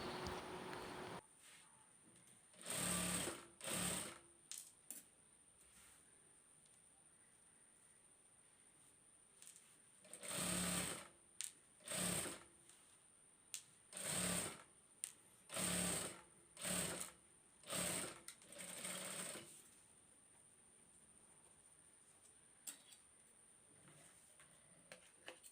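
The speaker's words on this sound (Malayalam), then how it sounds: "കറക്റ്റായിട്ട് വെച്ച് സ്റ്റിച്ച് ചെയ്ത് കൊടുക്കാം." Sewing machine stitching the folded edge of a sticker dhoti, starting and stopping in a series of loud whirring runs of one to two seconds with short quiet gaps between them, no talking.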